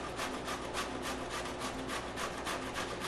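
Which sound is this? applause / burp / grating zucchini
grating zucchini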